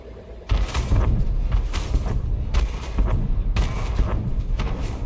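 Repeated heavy booming blasts in a space video game, loud and close, rolling into one another with short gaps and sustained rumbling between hits.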